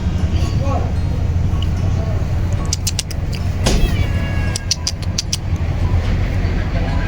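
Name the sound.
cat meowing in Kashmir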